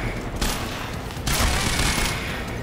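Sustained automatic gunfire from the video game Quantum Break rattles in a loud, dense burst that swells even harder midway, with no talking.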